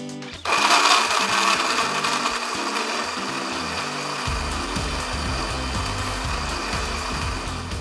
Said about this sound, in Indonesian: Kita blender sampai halus.